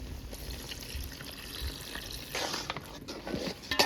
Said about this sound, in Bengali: এখন পরিমাণ মতো একটু পানি দিয়ে দেবো।